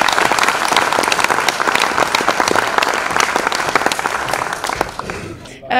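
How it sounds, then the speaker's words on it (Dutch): An audience at a literary café claps steadily and loudly for about five seconds before the applause tapers off abruptly. "Applaus voor Janneke Schiebelink."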